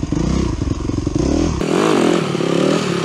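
A 125cc motorcycle engine accelerates loudly up close, its buzzing note climbing through the revs, then shifting to a smoother, wavering drone.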